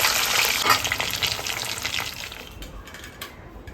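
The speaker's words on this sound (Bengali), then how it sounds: "এই যে মাছ ভাজছি এখন" Loud, steady sizzling of fish frying in hot oil, crackling close up and gradually settling toward a quieter hiss.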